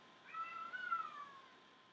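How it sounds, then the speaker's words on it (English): Cats yowling in a quarrel: one drawn-out, wavering cry lasting about a second, faint and somewhat distant, with no talk over it. "the kitties are fighting"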